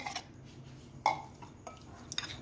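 Chicken being mixed with ginger garlic paste in a bowl for lemon pepper chicken gives a few faint clinks and scrapes of utensil against the dish, with a sharper knock near the middle and quiet handling between.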